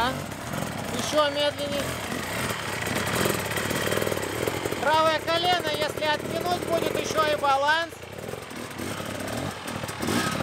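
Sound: enduro motorcycle ridden slowly on the clutch

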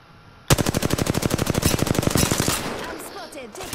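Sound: machine gun fire in a battle royale video game

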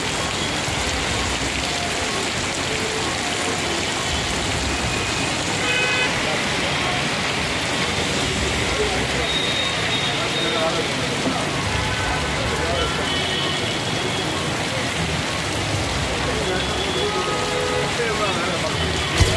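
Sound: rain falling widely in Chennai

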